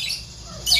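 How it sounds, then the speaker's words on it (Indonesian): A small konin bird gives a short, sharp, high squawking call, loud and close, with faint background noise. "burung ini burung yang kecil, tapi burung ini bisa membawakan lagu burung-burung besar"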